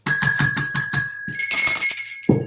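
Bells ring in a quick run of about six bright, evenly spaced strikes with a sustained high tone, followed by a shimmering jingle and a last thud.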